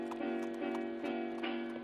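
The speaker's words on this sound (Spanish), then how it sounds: "Cascos de caballos que rondan la casa" Horse hooves clip-clop around a house in a steady, evenly spaced rhythm of hollow knocks, moderately close, over a sustained musical drone.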